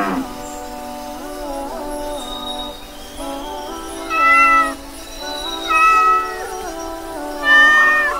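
A cat meows repeatedly, several drawn-out calls rising in pitch and loudness toward the end, close by with no other sounds.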